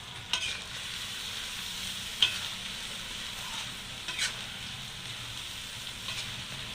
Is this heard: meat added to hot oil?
yes